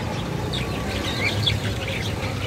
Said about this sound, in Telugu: ఇక్కడ చూడండి లవ్ బర్డ్స్